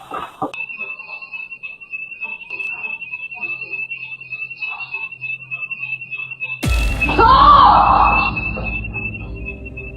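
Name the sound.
alarm going off inside a house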